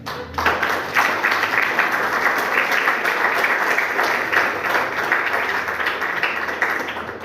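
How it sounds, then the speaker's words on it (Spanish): An audience claps steadily and densely, the applause starting at once and holding loud and even for several seconds before easing slightly at the end. "Bueno, gracias por el aplauso."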